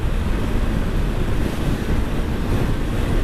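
Coastal wind buffets a rider on a 125cc motorcycle near Ploemeur, a loud, steady roar across the whole stretch that swells and dips slightly without any break.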